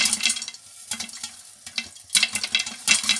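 Caramel popcorn cooking in a covered pan over a medium flame produces irregular bursts of sizzling and popping crackle in uneven clusters, close and fairly loud, with no voices.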